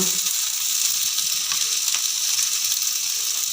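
Spice paste with green chili paste and cashew paste sautéing in a pan for a broccoli curry, a steady close sizzle with scraping clicks from stirring throughout and no talking.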